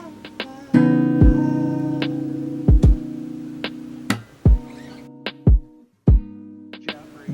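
A guitar chord is plucked across the 2nd to 5th strings and rings out repeatedly, with sustained tones broken by sharp individual string attacks in an uneven rhythm, close and clear with no voices.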